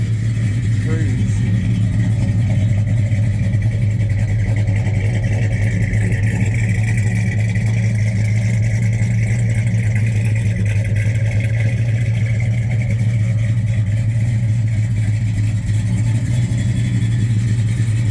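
A 1976 Ford F100 pickup cruises steadily, its low engine drone humming constantly from inside the cab with faint rattles and road noise and no clear revving.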